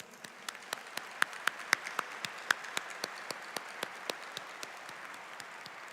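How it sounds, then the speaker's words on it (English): Sparse, evenly spaced claps at an MBA commencement ceremony honoring staff and student volunteers, a few distinct hand claps repeating in a steady rhythm, fairly faint with a quiet room behind. "Please give them all a big round of applause."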